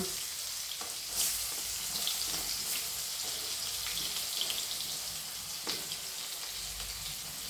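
Onion frying in a pan with hing and turmeric for poha, a faint steady sizzle with a few soft stirring clicks, heard close and without speech.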